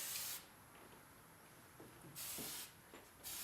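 Weightless hairspray hissed onto hair being back-combed and twisted into an Alice in Wonderland fantasy style, three bursts of spray, the first short, the last two longer, each a broad airy hiss close by with quiet gaps between.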